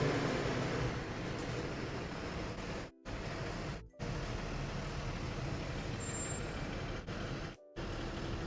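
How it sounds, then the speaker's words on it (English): A noisy tow truck drives past on a nearby road, a loud, steady engine and road roar that fills the whole stretch with a few brief dropouts. "Hold on, there's a very noisy truck going by."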